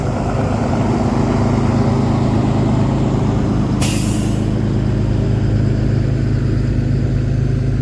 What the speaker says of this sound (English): as you hear my noisy truck